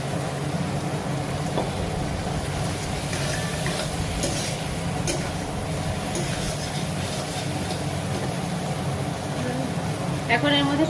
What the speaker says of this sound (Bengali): এখন এই মশলার সাথে চিংড়ি মাছগুলো খুব ভালোভাবে মিশিয়ে নিতে হবে।